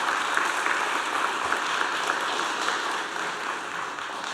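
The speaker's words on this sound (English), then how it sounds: "Let's give them another round of applause." Steady applause from parents and guests at a school board meeting, honoring students, a dense even patter of clapping that fades slightly toward the end.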